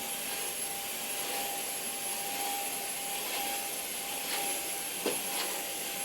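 A vacuum cleaner runs steadily with a constant whooshing roar and a thin high whine, with a couple of faint clicks.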